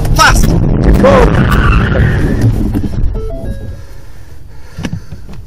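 Rally car spinning on a special stage, tyres squealing and skidding loudly under a revving engine for the first few seconds, then fading to quieter squeaks, with a person's voice mixed in.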